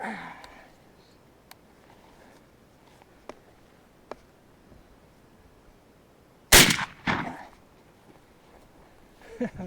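A shotgun fires a 1 3/4 ounce Hornady nickel-plated lead load outdoors: one loud, sharp blast partway through with a short echo trailing off. Faint clicks and handling noises come before it, and another burst follows near the end.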